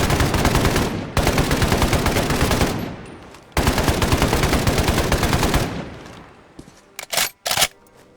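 A PKM Russian machine gun chambered in 7.62x54, modded into Fallout 4, fires two long sustained bursts with a short pause between them. Loud and close, then a few brief mechanical clicks and rattles follow.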